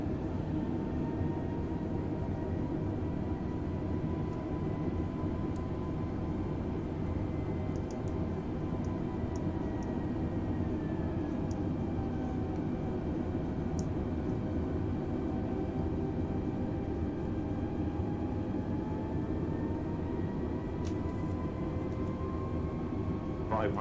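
An Air Jamaica Airbus A320neo on final approach, heard from the cockpit: a steady low engine and airflow hum fills the space, with faint tonal whines drifting in pitch and occasional soft clicks.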